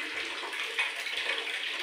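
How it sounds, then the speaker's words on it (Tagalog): Tap water running for a bath: a steady, close hiss of flowing and splashing water with slight surges, heard alone without talk. "Ayun na yung tubig namin."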